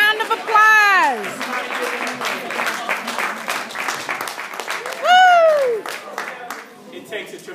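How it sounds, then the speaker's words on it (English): A university poetry open mic crowd claps for the performers who have stood up. The applause is lively and sustained, and two loud rising-and-falling whoops and other voices cheer over the clapping. "Round of applause."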